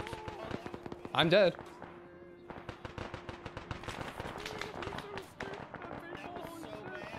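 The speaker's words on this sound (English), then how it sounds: "Dang, what an explosion." A video game explosion bursts loudly near the start, followed by a sharp crackle and a stretch of rapid popping and gunfire-like reports under a spoken voice.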